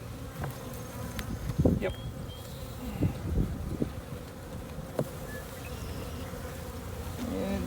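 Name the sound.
honey bees buzzing at beehives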